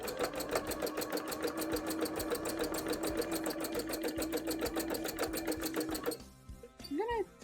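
Sewing machine stitching a zigzag on cosplay fabric, a rapid, even mechanical chatter running steadily and close for about six seconds before stopping, followed by brief voices.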